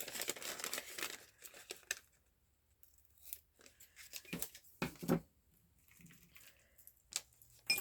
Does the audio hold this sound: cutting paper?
yes